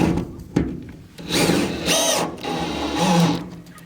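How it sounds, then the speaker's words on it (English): A power drill whirs in short bursts as it drives a screw into a window frame being fitted in a shipping container, the motor whining up and easing off several times at close range. "And then we just put our screw in."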